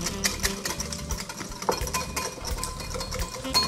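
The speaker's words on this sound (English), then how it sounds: "I'm gonna whisk this for a little while." A whisk beats rapidly against the sides of a bowl while a dressing is mixed for crab cakes, producing quick, irregular metallic clicks and scrapes close to the microphone.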